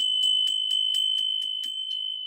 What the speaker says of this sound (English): They said, ring the bell on that.